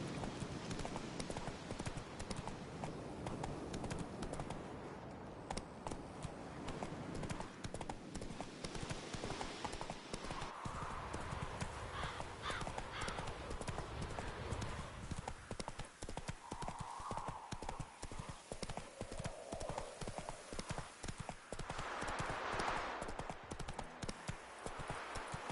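Roach the horse clip-clops along at a steady gait in Witcher 3, continuous hoofbeats over dense game ambience with occasional snorts.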